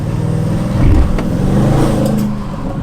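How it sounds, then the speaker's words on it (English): An Audi RS6 Avant fitted with a downpipe and tune accelerates with its turbo spooling, a loud close engine surge rising then settling over a steady road rumble. "You can hear the difference in the turbo spool."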